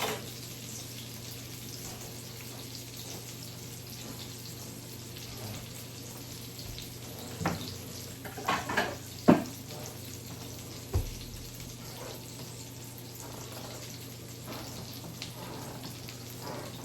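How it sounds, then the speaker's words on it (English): Kibbeh patties deep frying in hot oil give a soft, steady sizzle throughout, with several sharper pops and crackles clustered in the middle as they cook; no talking. "deep fat frying is different too."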